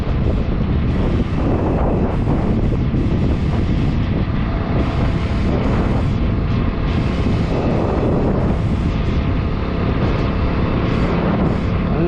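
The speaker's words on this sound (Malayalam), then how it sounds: "നല്ല തണുപ്പ് കാറ്റുണ്ട്" Strong cold wind buffets the microphone in a constant loud roar, gusting and rumbling throughout with no voices.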